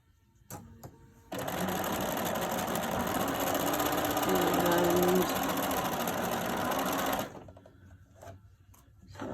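A sewing machine runs in one steady, close burst for about six seconds while back-stitching a fabric face mask, framed by quieter handling noises before and after.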